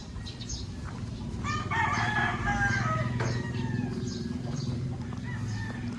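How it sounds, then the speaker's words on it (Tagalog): A rooster crows on a spacious farm with many chickens, the call ringing out clearly over a bed of clucking and background fowl chatter, with a second crow following a moment later. "madaming manok"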